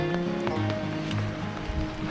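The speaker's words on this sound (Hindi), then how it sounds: "एकदम मस्त झमाझम बारिश हो रही है यार" Heavy rain pours down in the mountains of Spiti in the evening, a dense steady hiss of drops pattering on surfaces with scattered louder impacts, fairly close and without speech.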